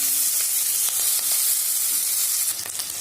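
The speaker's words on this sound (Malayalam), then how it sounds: "2 പച്ചമുളക് കീറിയതും ഇതിലേക്ക് ചേർത്ത് കൊടുക്കണ്ട. ഇത് നന്നായിട്ടൊന്ന് വഴറ്റി കൊടുക്കുക." Slit green chillies sautéing in hot oil for a hotel-style vegetable kurma, a loud, steady close-up sizzle with a dense hissing spray throughout and occasional faint stirring clicks, easing slightly near the end, no voices.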